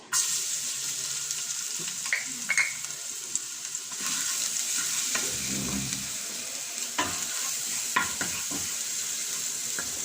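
Garlic frying in annatto oil for beef kare-kare, a steady bright sizzle with occasional spoon scrapes and stirring knocks in the pan, no talking.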